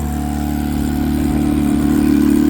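A twin-turbo Suzuki GSX-R 1000 motorcycle engine runs close and loud with a steady, throbbing idle that rises slightly toward the end.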